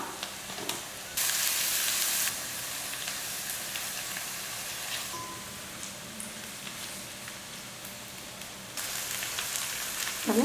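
Onions sautéing in a pan with turmeric and salt for an eggplant-egg gravy, a soft steady sizzle heard close, with a louder hissing burst near the start and occasional light stirring scrapes.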